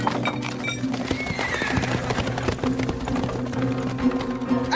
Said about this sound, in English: You've got to unhitch those horses.